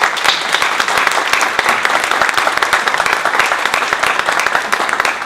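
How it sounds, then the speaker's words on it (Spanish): An audience applauds a guest speaker at a talk, dense and continuous clapping from a full room that holds steady for several seconds. "Un aplauso, por favor."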